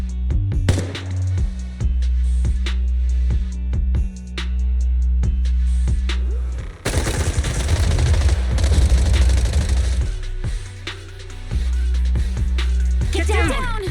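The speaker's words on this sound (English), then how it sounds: "Gunfire? This pattern. Suppressive marching fire." In the Zenless Zone Zero video game, suppressive marching fire rattles as rapid, evenly spaced gunshots in long bursts, loud and close, with a heavier chaotic blast mid-way and game music underneath.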